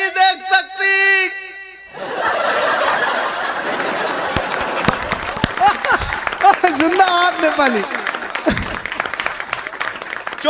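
A live audience at a Hindi comedy poetry show breaks into sustained, loud applause after a short spoken line, with scattered chuckles mixed into the clapping.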